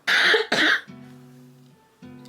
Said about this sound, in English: I think I just coughed and it popped my ear